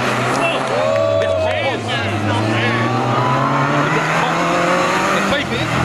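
A closed-class race car accelerates hard off the start at the Sewen hill climb, its engine note rising steadily and loud and close, with a commentator talking over it throughout.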